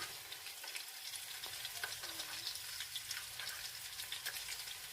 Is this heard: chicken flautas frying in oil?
yes